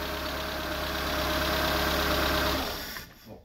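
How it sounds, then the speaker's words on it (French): Used car engine with 108,000 km idling, heard close in the engine bay: a steady, loud mid-low rumble with a faint knocking texture that runs evenly for about two and a half seconds before cutting off and fading. "Voilà, regarde, il tourne en rond ce moteur."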